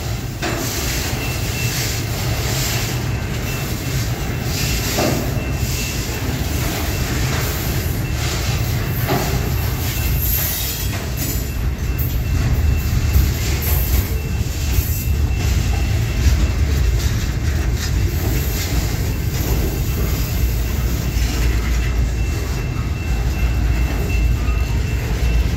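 A long CSX steel freight train rolls steadily past in Plymouth, Michigan, with a continuous heavy rumble and rattle of railcars, faint clickety-clack and occasional wheel squeal, sustained for the whole stretch without any talk.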